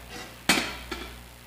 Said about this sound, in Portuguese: Vamos pôr a chaleira pra cá.